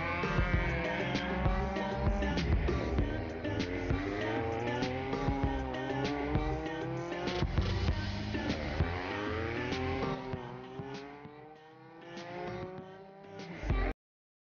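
A car powered by a Renault Clio Williams F4R engine revs and drives, its engine tone rising and falling in repeated sweeps, loud and close, with no talk.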